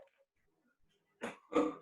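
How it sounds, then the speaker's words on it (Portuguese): Two short, rough coughs from a woman lecturing on joint anatomy, close and fairly loud after a near-silent pause. "Tô com tosse."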